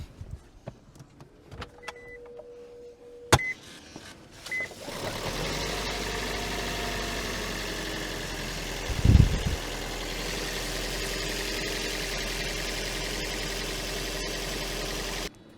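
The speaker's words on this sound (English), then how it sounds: "I'm just gonna start the car up, make sure it's working good." A second-generation Toyota Prius switches on with a few soft clicks and chimes, then settles into a steady, close, continuous idle hum with a brief louder surge partway through.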